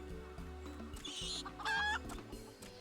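Chickens cluck in Final Fantasy XIV, a few short clucks and a brief squawk over steady game background music.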